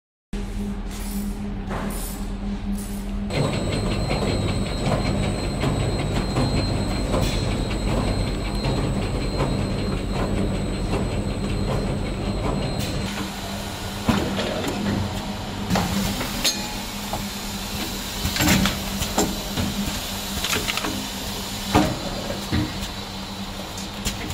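A mini doypack pouch packing machine heat-seals coffee powder bags, giving a steady mechanical hum with rhythmic clicking and clattering through the whole run and a few louder knocks near the end.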